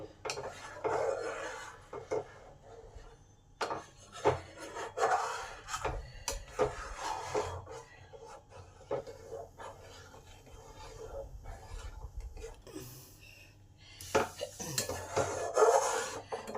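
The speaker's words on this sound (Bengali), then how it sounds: "আর এই সময় কন্টিনিউ নাড়তে হবে, না হলে চালটা তলায় ধরে যেতে পারে" Rice and milk stirred without pause in a pot for mango phirni, with repeated scraping and rubbing of a spoon along the pot's bottom and occasional clinks, close and fairly quiet.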